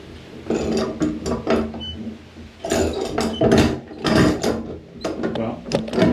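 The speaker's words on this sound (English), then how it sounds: "Oh, there's a pump in here." An old hand pump at a Tennessee state park is worked by hand, giving a series of loud creaking, clanking mechanical strokes in uneven bursts with brief pauses between them.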